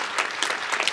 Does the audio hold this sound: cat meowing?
no